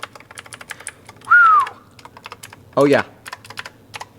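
Rapid clicky keystrokes on a Razer BlackWidow V3 TKL mechanical keyboard, a close, steady patter of individual key clicks, briefly interrupted by a person's short spoken remarks.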